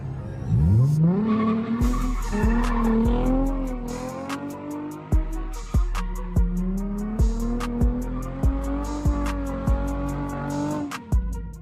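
Close and loud, a car spins donuts outdoors: the engine climbs to a high, sustained rev while tyres skid with a steady screech, punctuated by regular sharp pulses as it circles.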